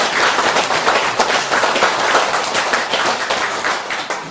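A seated lecture audience claps together in dense, even applause. It stays loud and close for several seconds and then fades slightly toward the end.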